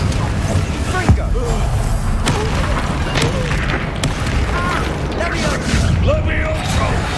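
Fiery blast spells from Hogwarts Legacy crack and boom repeatedly through a dense, continuous combat din, with sharp hits near the start and middle, all under constant shouting of spell names.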